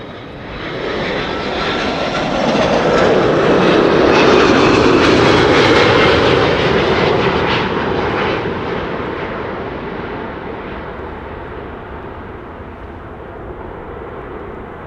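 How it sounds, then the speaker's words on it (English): A Delta Air Lines Airbus A340-600 jet arriving at Schiphol Airport after a flight from Atlanta, its engines roaring loudly and steadily, swelling as it passes close and then slowly fading away. "This is Delta Airlines Flight 74 arriving from Atlanta, Georgia."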